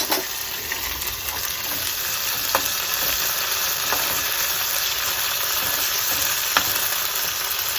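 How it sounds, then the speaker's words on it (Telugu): Green chilies fry in oil with cumin seeds, a continuous close sizzle with faint crackles and occasional stirring, no voices. "జీలకర్ర వేగనగానే పచ్చిమిర్చి వేసేద్దాం."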